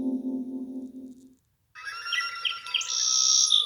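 A sparrow chirps in short, bright bursts after a low tonal passage and a brief silence, a quick series of high tweets rising into a louder, sustained chattering call near the end.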